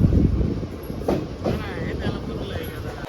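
The Simhadri Express running past Narsipatnam Road, heard from inside as a continuous loud rumble with rhythmic rail clatter and a few clicks, close and steady throughout.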